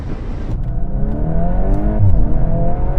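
A Honda Civic Type R, BMW M135i, Mercedes-AMG A35, Audi S3 and Volkswagen Golf R accelerate hard in a quarter-mile drag race, the loud engine note climbing steadily through the gears with brief dips at each shift.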